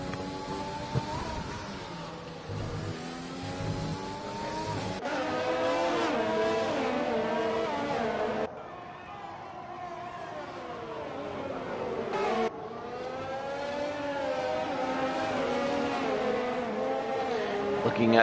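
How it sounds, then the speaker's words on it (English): Race cars from a Canadian Grand Prix esports round in a racing video game, engines droning and shifting pitch continuously as they rise and fall, loud and steady with abrupt level changes, no voices. "I'm getting a bit of a sound bug there. You can hear the cars for a little bit."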